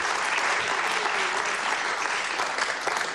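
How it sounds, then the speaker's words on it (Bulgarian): Dense, continuous applause from a studio audience on a television game show, loud and even throughout the short stretch with no speech over it. "силни аплодисменти"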